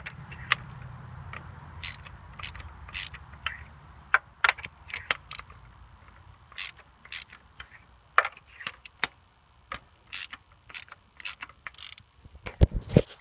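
A ratchet with an extension and 16 mm socket loosens the spark plugs of a 2001–2005 Honda Civic EX 1.7, giving irregular sharp clicking strokes up close with short pauses between.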